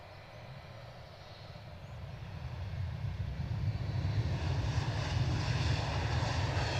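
An EasyJet airliner from London Luton at Edinburgh airport, its jet engine roar rising slowly from a distant rumble to a louder, steady broadband rush, with no talk.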